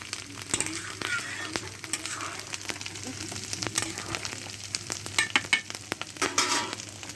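Onion and garlic fry in a pot for a goat meat curry, a continuous low sizzle broken by frequent crackles and stirring scrapes, close and moderately quiet.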